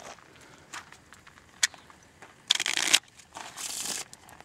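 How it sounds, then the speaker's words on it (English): A deck of playing cards being shuffled during a close-up magic routine, with two short bursts of riffling near the end following a few light taps and handling sounds, close and with no talking. "I'm going to shuffle the cards."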